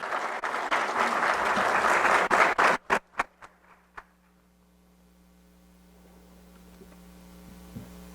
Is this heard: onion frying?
no